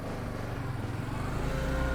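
A motorcycle engine hums and revs steadily on a safety riding training course, a close, continuous drone that swells slightly toward the end.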